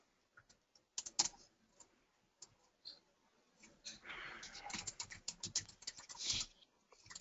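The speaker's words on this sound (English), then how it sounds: "I hear some people typing" Keys clatter on computer keyboards during an online business pitch session, in irregular bursts of quick clicks, close by, growing busier toward the end.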